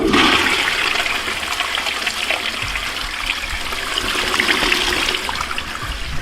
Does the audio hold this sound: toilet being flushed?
yes